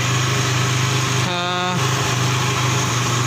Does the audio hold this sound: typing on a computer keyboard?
no